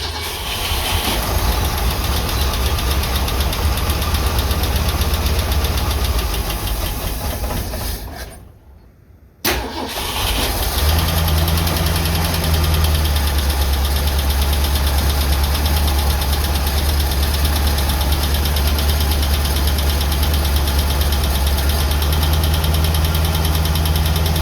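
A 1967 Ford Mustang engine idles on choke, a loud, steady, rough drone that briefly sags and cuts out before catching again and running on evenly.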